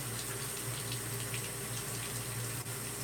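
Water runs steadily from a tap into a bottle, a constant splashing rush with a low hum beneath it, continuous from start to finish with no talking.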